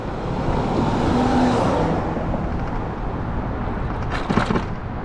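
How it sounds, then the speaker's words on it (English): Two San Diego police vehicles pass at night on Broadway, a swelling roadway rush and engine hum that peaks and fades, with street ambience and a brief higher burst near the end. "Those were 2 San Diego police vehicles."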